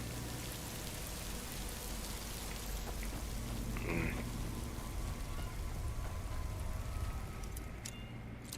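Steady rushing water from a small waterfall in the underground Blackreach area of the Skyrim video game, a constant broadband roar filling the whole span with no talking.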